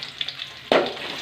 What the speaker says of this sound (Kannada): ಸ್ವಲ್ಪ ಫ್ರೈ ಆಗುತ್ತೆ ಚೆನ್ನಾಗಿ.